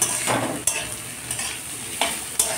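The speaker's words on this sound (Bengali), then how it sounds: "এবারে নাড়িয়ে এরকম ভেজে নেব" Radish greens and potato fry in a pan with a steady close sizzle, while a spoon scrapes and stirs through them in several sharp strokes.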